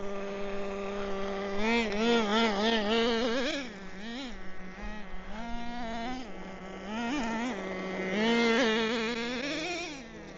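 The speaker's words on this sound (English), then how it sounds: "the idle's too high when it wants to roll on its own." A Traxxas Nitro Rustler nitro RC car engine idles high, a steady buzzing drone with a wavering pitch that rises and dips, close and fairly loud throughout with no talk.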